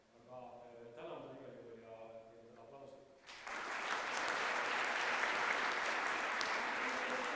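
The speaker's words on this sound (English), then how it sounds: "give her a great round of applause" A speaker talks for about three seconds, then an audience at an Estonian Republic anniversary ceremony bursts into loud sustained applause, a dense even roar of clapping that holds to the end.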